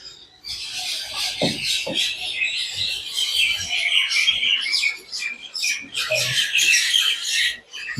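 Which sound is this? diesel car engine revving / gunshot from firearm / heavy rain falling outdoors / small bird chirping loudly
small bird chirping loudly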